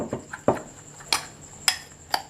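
A spoon stirs custard paste in a bowl, the quiet stirring broken by about five light, sharp clinks of metal against the bowl at uneven intervals.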